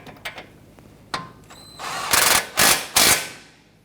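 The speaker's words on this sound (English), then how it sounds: "Using a 17mm socket, I'm going to go ahead and tighten down the ball joint nut here." A 17mm socket on a ratchet tightens a ball joint nut on the front suspension of a 2017-2020 Hyundai Elantra, giving a few quick ratchet clicks, then three loud, close bursts of rapid ratcheting.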